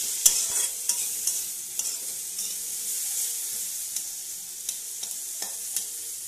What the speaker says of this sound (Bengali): এবার একটু ভালোভাবে নেড়ে নেব